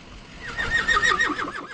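A rescued horse lets out a single loud, close whinny that rises and shakes into a quavering descending neigh, with no other sound around it.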